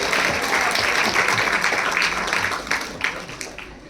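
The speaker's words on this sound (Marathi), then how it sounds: "एकदा आपण जोरदार टाळ्या वाजवूया त्यांच्यासाठी." Audience at a school website inauguration ceremony applauding a teacher: dense, sustained clapping from many hands, loud at first and gradually thinning toward the end, with a few louder individual claps near the close.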